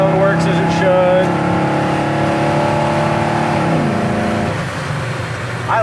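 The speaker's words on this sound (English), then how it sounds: "Kick down works as it should." A 1970 Chevelle's engine revs hard under kick-down acceleration, a loud, close roar with harmonic tones that climb and then drop as it shifts, heard from inside the car.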